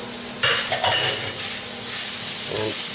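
Bacon frying and being stirred in a pan for Alsatian choucroute, with a loud close sizzle and hiss and scraping stir strokes running continuously, no voice.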